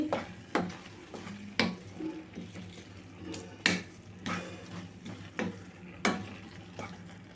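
A spoon works coconut laddu mixture with ghee around a pan, giving repeated soft scrapes and knocks at a roughly steady rhythm, close and fairly quiet, with no talking.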